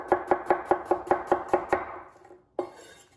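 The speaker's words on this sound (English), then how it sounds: "Chop, chop, chop in the bowl." A knife chops apples inside a bowl with about ten sharp, evenly spaced knocks, close and crisp. A pause follows, then one final chop.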